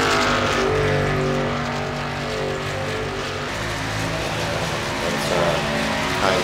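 NASCAR trucks from the iRacing video game run practice laps at Pocono, their engines a loud, continuous roar that rises and falls as they pass.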